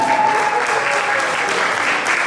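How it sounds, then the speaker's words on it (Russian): Audience applause fills a graduation evening hall, a steady, dense wash of clapping from many hands, loud and continuous throughout with no pauses. "Аплодисменты, друзья, аплодисменты"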